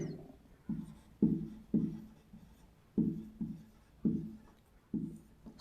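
Chalk or marker strokes on a classroom board, a series of short, fairly loud scrapes and taps in an uneven rhythm, roughly one per second, with no talking.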